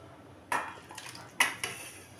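A pot of parshe fish curry with cumin paste is lifted off the stove, making two sharp metallic clanks of pot and utensil against each other, with softer rattles in between.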